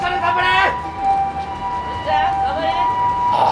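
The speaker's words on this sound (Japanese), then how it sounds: "さあ救急車の音が聞こえてきました。" An ambulance siren rises and falls in the distance at a hot dog eating contest while people talk loudly over it nearby.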